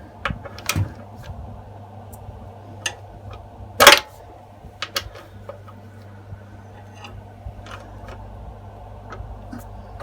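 A spanner ratchets on a bolt during the strip-down of a Puch Maxi moped. Sparse, close mechanical clicks and ticks sound over a low workshop hum, with one sharp, louder clatter partway through. No one speaks.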